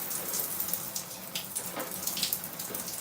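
Shower water runs steadily in a bathroom, a continuous hissing splash with small spattering irregularities, close and alone with no voices.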